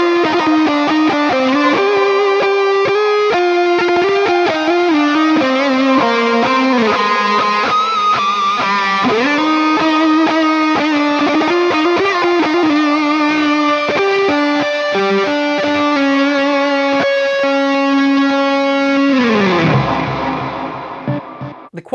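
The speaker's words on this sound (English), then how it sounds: "But just for funsies, let's throw on a delay. I really like the shimmer reverb on this unit a lot as well." Electric guitar played through a Headrush MX5 unit with delay and shimmer reverb, distorted chugging riffs and sustained tones ringing loud and continuous, then a final chord decaying into a shimmering tail.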